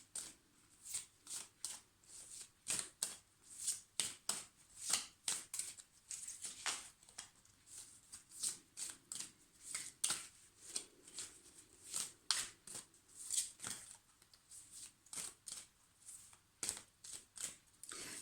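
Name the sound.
shuffling tarot cards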